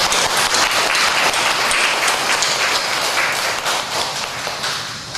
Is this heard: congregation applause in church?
yes